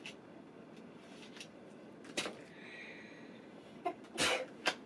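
A sharp sneeze bursts out near the end, preceded by a shorter snort-like sound, in an otherwise quiet room with light handling noises.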